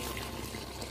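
Cool water from a newly drilled borewell at a school in Gumla pours out in a steady, close, continuous rushing splash that fills the whole moment without letting up, with no talking heard.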